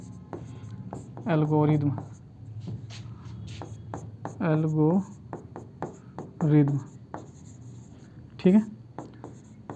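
Marker or chalk strokes on a classroom board during a maths lesson on Euclid's division algorithm, a steady scratchy scribbling under a teacher's nearby speech, with short bursts of writing between sentences.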